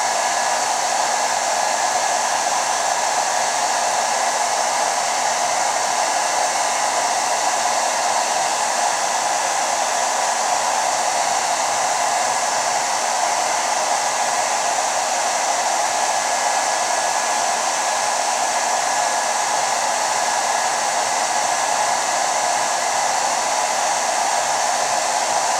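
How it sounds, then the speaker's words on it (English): A blow dryer set on high heat with a low fan runs steadily and loudly without a break, warming a Mossy Oak camo skin wrap on a Remington 870 Magnum shotgun. "So just gonna turn the blow dryer on here. It's on high, but the fan's on low."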